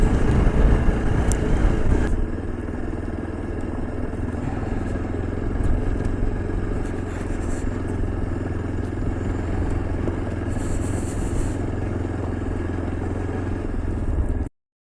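A motorcycle rolls downhill on a rough mountain road toward Chanshal Pass with a steady low engine drone, wind buffeting and rattling from the bumpy surface.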